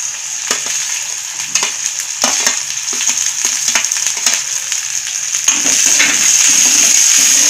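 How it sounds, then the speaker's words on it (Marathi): Onion, curry leaves and a few green chillies dropped into a mustard-seed tempering for bhindi sabji, a loud, close, crackling sizzle with intermittent spatula scrapes and taps that swells louder toward the end. "फोडणीमध्ये कांदा, कढीपत्ता, एक कांदा घेतला होता आणि 4-5 हिरव्या मिरच्या."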